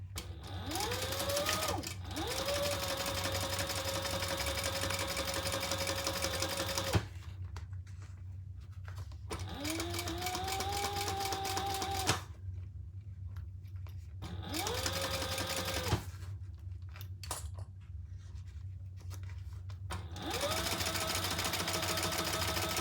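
A sewing machine top stitches a leather pumpkin in several steady, whirring runs, each lasting a few seconds with a rising pitch at the start, separated by short quiet pauses.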